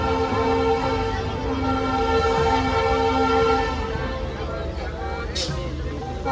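A train pulling into Visakhapatnam station early in the morning, with a loud, steady rumble and a sustained tonal drone that eases toward the end, close by, plus a brief high squeal near the finish.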